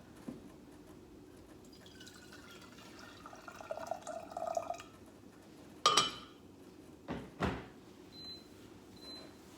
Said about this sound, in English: I actually have some hot water here ready to go for our pot.